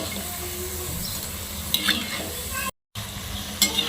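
Taro leaf bhaji deep-frying in hot oil give off a steady, even sizzle, with a few light clinks of a utensil against the pan. The sound cuts out briefly near the end, and no one speaks.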